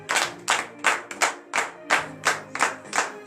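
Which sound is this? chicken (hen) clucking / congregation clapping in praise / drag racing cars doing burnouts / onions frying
congregation clapping in praise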